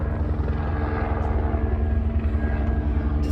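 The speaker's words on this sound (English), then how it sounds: "Helicopter." A helicopter drones steadily nearby, its low rotor thump pulsing rhythmically and continuously throughout.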